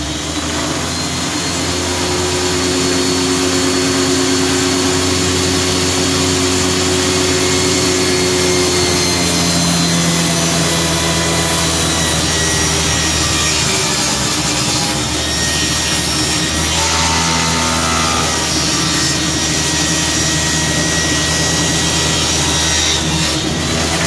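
A power saw cuts a bevel into a wooden kneeboard, running as a loud, steady whine with a broadband rushing edge for about twenty-four seconds and small shifts in pitch as the blade feeds through the wood.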